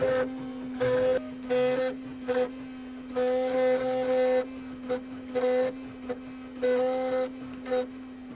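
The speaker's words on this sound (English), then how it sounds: "I do a fair bit of labelling and relabelling. I have a machine for doing it." Label-making machine printing plant labels for camellias, a close, steady electronic whirr in repeated short bursts with brief pauses between, over a constant low hum.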